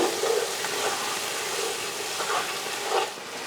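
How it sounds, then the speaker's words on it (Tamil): Tomatoes and green chillies with a little salt sautéing in a pan for chicken biryani, giving a steady hissing sizzle with a few faint stirring scrapes and no voices. "முந்நூறு கிராம் அளவுக்கு தக்காளி ஒரு பத்து போல் பச்சை மிளகாய் நல்லா வதங்கட்டும்"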